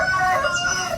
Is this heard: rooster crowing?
yes